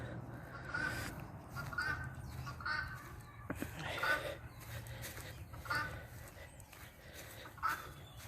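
A bird caws over and over, about once a second, in harsh, fairly faint calls outdoors, with low background rumble between them.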